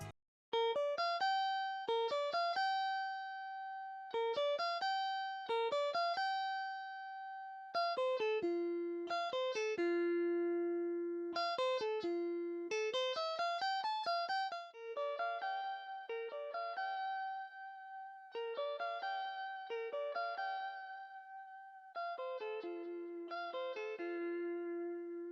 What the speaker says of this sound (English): add an arpeggiated top line melody of electric guitar